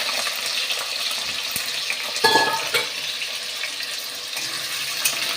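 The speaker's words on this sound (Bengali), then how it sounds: "এবার আলুগুলো বন্ধুরা খুব ভালো করে ভেজে নিতে লাগবে" Cut potatoes fry in a pan for an egg omelette curry, a steady sizzle with scraping stirs and a sharper clatter midway, close and without talk.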